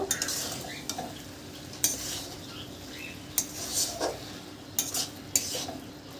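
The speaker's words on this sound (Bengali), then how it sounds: "নারকল কোড়াটা দিয়ে আর একবার ঘেটে দেব" A spoon stirs grated coconut through a prawn and taro-leaf curry in a pot, giving scattered scraping clinks and knocks against the metal over a low steady background hum, with no talking.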